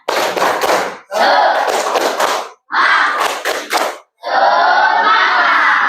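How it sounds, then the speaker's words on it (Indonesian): A classroom of students performs a rhythmic clapping chant in bursts, loud, close group claps and shouted syllables separated by brief silences, ending in a sustained collective cry. "Tepuk semangat."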